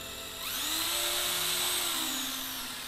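Bosch reversible power tool spinning up and running steadily with speed control, a loud close whine with a rising then level motor pitch, heard alone.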